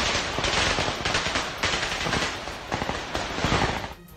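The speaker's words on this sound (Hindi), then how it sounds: "पीछे से सुनाई दी गोलियों की आवाजें" Sustained bursts of gunfire aimed at a kamikaze drone over Kyiv ring out in rapid, loud automatic volleys, with short pauses between strings of shots.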